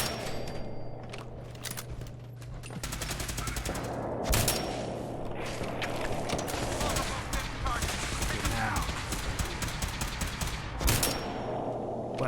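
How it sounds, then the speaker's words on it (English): Gunfire from enemies in Fallout 4 crackles through the whole stretch, with bursts of sharp shots and a few louder cracks near the player, set against steady game ambience. "the bad men really want to shoot me"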